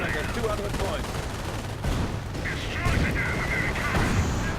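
Gunfire and anti-tank gun shots in a WWII strategy video game: a dense, steady rumble of distant battle with muffled booms and crackling shots, under a commentator's voice.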